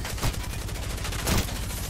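Rapid gunfire in the Apex Legends battle royale game rattles in a steady stream of fast shots, with two louder bursts standing out, one early and one late.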